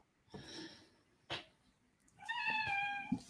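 Cat meowing close by in a quiet room, a couple of short calls followed by a longer drawn-out meow, with a small snort near the end.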